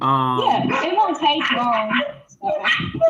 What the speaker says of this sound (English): I apologize for the barking.